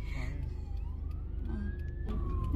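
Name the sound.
fire truck siren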